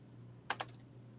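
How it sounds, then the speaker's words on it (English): A die clatters across a computer keyboard in a few quick, close clicks and taps lasting under half a second, over a quiet room hum. "That rolled across my keyboard."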